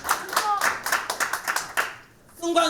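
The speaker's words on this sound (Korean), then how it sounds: "박수 한번 주세요." A short burst of hand clapping from a political rally crowd in South Korea, uneven and lively, fading out briefly before a voice begins speaking over the end.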